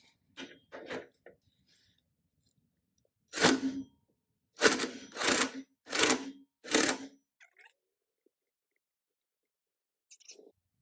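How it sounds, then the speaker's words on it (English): Rear shock bolts on a 2014 Harley Davidson Dyna Switchback being torqued, a series of short sharp ratcheting bursts in quick clusters separated by quiet pauses, close and isolated. "once I got it in there, now I can hold it and start torquing it"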